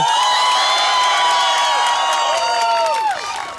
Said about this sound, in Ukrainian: Пані Мальована, давай зустрічайте її оплесками